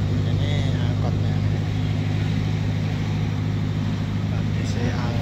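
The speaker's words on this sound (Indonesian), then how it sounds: "Jadi saya sengaja naik angkot khas Bintang." Ride inside an angkot minibus on Bintang Island, Tanjung Pinang: a steady low engine drone and road rumble fill the cabin throughout, with faint rattles and brief higher noises on top.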